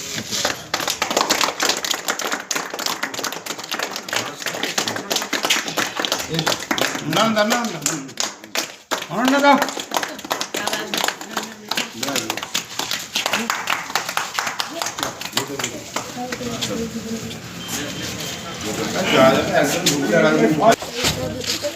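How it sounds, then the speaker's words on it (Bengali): A crowd claps together to welcome the inauguration of a long-awaited toilet at a village football ground, with brisk, scattered applause running under people talking throughout. "আমরা করতালি দিয়ে সেই উদ্বোধনকে স্বাগত জানাচ্ছি।"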